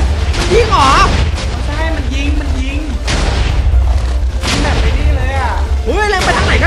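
Loud blasts and booms from a Minecraft explosion, several bursts across the stretch, with an excited voice talking over them throughout.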